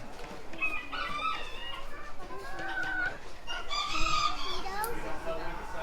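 Chickens at a poultry show cluck and a rooster crows among many birds, busy and close, with people talking and children's voices mixed through the crowded barn noise.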